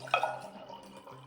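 Water splashes and trickles into a Valentine's sensory box, a brief bright pour at the start that fades into soft dripping, close and alone.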